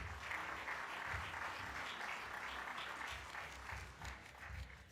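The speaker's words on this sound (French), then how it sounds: "que nous applaudissons bien fort" A conference audience in Casablanca applauds a bank chief executive, a faint, fairly distant and steady patter of many hands clapping that thins slightly toward the end.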